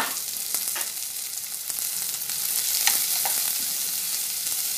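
Two chopped onions frying in hot oil, a bright continuous hiss with scattered light scrapes and taps from stirring, steady and close, no talking.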